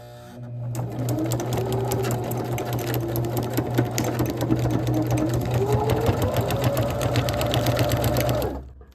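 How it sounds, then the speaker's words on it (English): A sewing machine stitches the outer side edges of a fabric gift bag, a rapid close mechanical whirr running almost continuously for several seconds before stopping abruptly. "I'm just going to sew on the outer edges on the left and right side."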